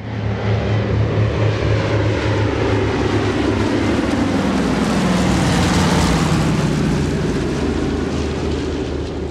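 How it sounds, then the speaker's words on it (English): A DC-3/C-47 with radial engines passes by, a loud, sustained propeller drone and throaty engine rumble that swells toward the middle with a shifting pitch before easing slightly. "The radial engine has a very particular sound"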